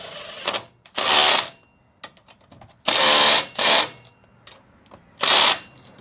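Ratchet tightening the brake caliper bolts on a cheap used truck, with hot rotors. Three loud bursts of rapid clicking come from close by, separated by quieter gaps with faint handling noises.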